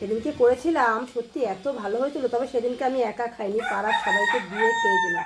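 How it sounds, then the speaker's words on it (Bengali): A rooster crows on a rooftop, heard under someone speaking continuously, its call partly masked by her voice, with a clearer tonal crow near the end. "শুনতে পাচ্ছ মোরগ ডাকছে"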